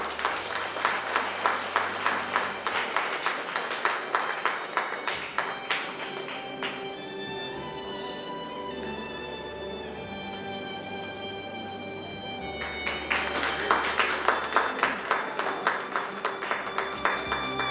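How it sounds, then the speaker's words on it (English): Audience applause at a school handing-over ceremony, rhythmic clapping that fades as a sustained musical tone takes over mid-way, then returns strongly toward the end. "Please give a big round of applause"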